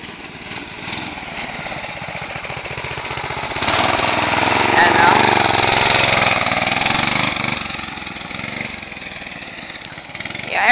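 A small go-kart engine with a blown motor runs steadily, its rough, loud mid-pitched drone swelling louder partway through before easing back, with no talk over it.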